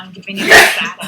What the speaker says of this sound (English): It's making me sneeze all day and have nose problems.